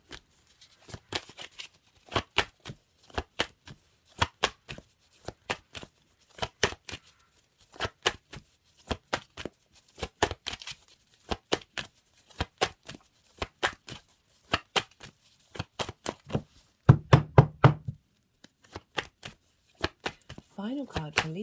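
Tarot cards being shuffled for a reading, a long run of crisp riffling bursts repeated in quick irregular rhythm, close and fairly loud, with no one talking.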